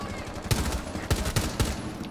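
Gunfire in a first-person shooter game: a few sharp, loud shots at irregular intervals over a steady background din, with no talking.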